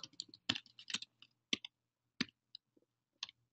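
Soft clicking of a computer keyboard: a quick burst of keystrokes followed by a few isolated taps, close and quiet, with no talking.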